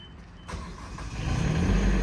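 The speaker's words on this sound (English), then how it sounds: "Press that button twice. It's gonna warm up the glow plugs, and it'll go ahead and start." A quiet hum, then an EnPak auxiliary diesel power unit on a 2018 Ford F750 crane truck cranks and catches after glow plug warm-up, its low rumble building steadily louder and closer.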